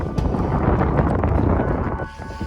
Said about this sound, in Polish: tylko że wieje wiaterek